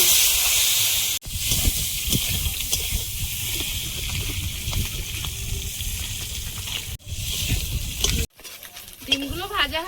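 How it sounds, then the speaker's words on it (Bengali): Eggs fry in a little oil in a pan with a pinch of turmeric and salt, giving a steady broadband sizzle broken by a few abrupt cuts, with faint background voices. "সামান্য তেল দিয়ে ডিমটা একটু ভেজে নেব।"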